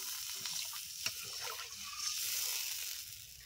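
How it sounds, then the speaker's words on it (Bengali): Water is poured into a pot of fish curry, a close, steady splashing gush over a faint sizzle, with a small clink partway through. "এখন দিয়ে দিচ্ছি জল।"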